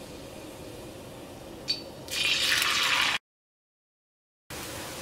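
Chopped onions hit hot oil in a pan for Kerala dum chicken biryani, and a loud, steady sizzle erupts partway through. It breaks into a moment of silence, then the hiss resumes.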